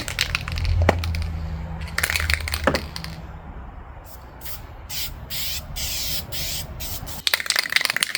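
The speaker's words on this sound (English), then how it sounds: "I won't say it's the best spraying can I've ever used. It's a little bit chunky." Gray metallic spray paint hisses from an aerosol can onto truck wheels in short, separate bursts. Each burst starts and stops sharply, with brief rattles and knocks between the sprays.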